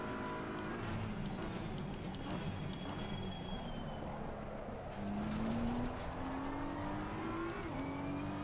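A new BMW M4 racing on the Nürburgring, heard from inside as a continuous engine drone whose pitch climbs under acceleration, with the roar growing louder midway and no voices.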